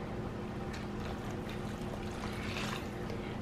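Boiling hot water pours into a stirred dinner mixture in a home kitchen, a soft, continuous splashing trickle heard faintly and close with no talk over it.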